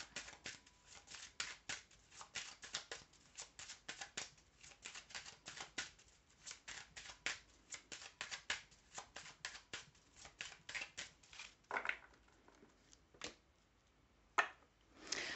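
Oracle cards being shuffled for a reading, a quick run of crisp riffling flicks in close succession, then slowing to a few isolated card slaps near the end; quiet and close, no talking.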